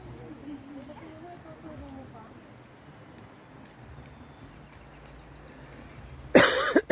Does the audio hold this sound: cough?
yes